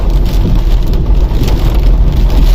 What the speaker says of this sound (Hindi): और झमाझम बारिश पड़ रही है